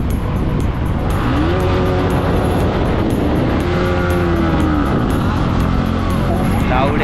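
A vehicle's loud exhaust roars inside a tunnel, and the reverberating engine note rises and falls continuously, close and loud, with a voice speaking over it.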